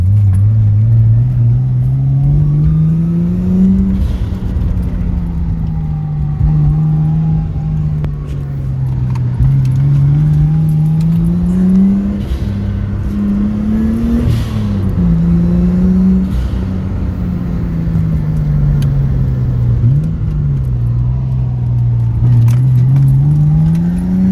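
A Nissan Skyline R33 engine drones loud and close from inside while racing a Lamborghini on a freeway, its steady pitch rising and dipping through gear changes, with a faint jingle and light rattles over the constant road rumble.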